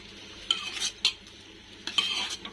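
Ginger being stirred into a cooking mixture: a few distinct scraping strokes of a utensil against a pan, spaced apart over a faint background sizzle, close by and without talk.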